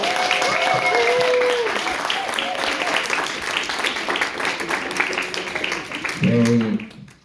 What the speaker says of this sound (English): An applause for all of our speakers again.